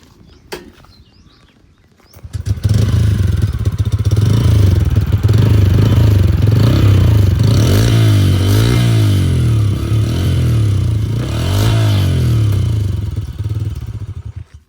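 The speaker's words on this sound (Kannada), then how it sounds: "ಗಾಡಿ ಸ್ಟಾರ್ಟ್ ಮಾಡಿಬಿಟ್ಟು ಸೌಂಡ್ ಒಂದು ಯಾವ ಥರ ಬರುತ್ತೆ ಅಂತ" A Bajaj Freedom 125 CNG motorcycle starts after a couple of seconds of quiet clicking, then idles loudly and close with a steady thumping beat, swelling through a few throttle blips before settling.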